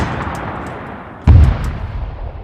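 A World War II gun firing in the Arma 3 game, a single heavy, booming shot with a low thump and short rumbling tail, standing out against a quieter background of game ambience.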